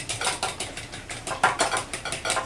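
A utensil clinks and scrapes rhythmically against a bowl while honey is whisked into an egg mixture, a quick series of light, close tapping strokes without talk.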